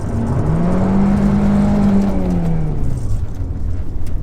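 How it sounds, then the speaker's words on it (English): SW20 Toyota MR2 with bad tires spinning and breaking loose on gravel, kicking up rocks: a loud, close engine rev rising and holding, then easing off over steady road and gravel noise. "All it did was spin the tires and kick rocks up"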